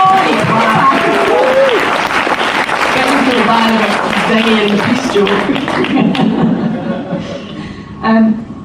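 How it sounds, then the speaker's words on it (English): A crowd at a Waterstones bookshop event in Glasgow applauds steadily with scattered laughter and cheering, the clapping thinning out toward the end before a brief final burst. "Can we have a wee round of applause for Len?"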